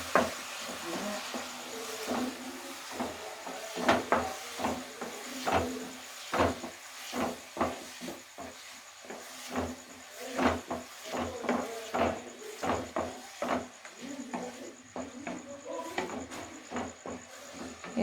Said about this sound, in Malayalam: ഇനി നമുക്കതിലേക്ക് ശർക്കര ഒഴിച്ചു കൊടുക്കാം. എന്നിട്ട് നല്ലതുപോലെ ഇളക്കാം.